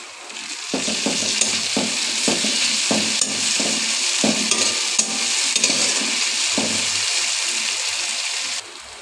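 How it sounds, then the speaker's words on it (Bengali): Onion, garlic and ginger paste frying in a hot pan, a steady loud sizzle running throughout with repeated scraping strokes of a spoon stirring the paste at an uneven rhythm, close and with no voices. "এখন দিয়ে দেবো পেঁয়াজ রসুন বাটা, আদা বাটা"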